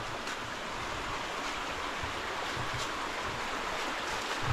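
River water flowing steadily in an outdoor Philippine setting, a continuous broadband rush with a few faint splashes, fairly close and alone without talk.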